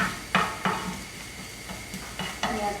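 Garlic sautéing in a pan for a chicken lollipop dish, with a steady low sizzle under repeated stirring strokes and light scrapes of a utensil against the pan, fairly close.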